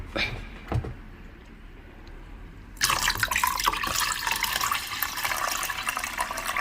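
Soaking water pours steadily off sticky rice from a container into a sink, a continuous splashing rush after some quieter handling and clinks.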